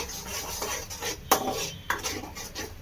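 A spoon scrapes and clinks against a kadai as a thick mixture bubbles and boils inside. Uneven metallic taps and scrapes come close and fairly quiet, with two sharper knocks and no talking.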